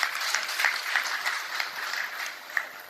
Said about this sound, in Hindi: तो एक बार ताली बजा दीजिए।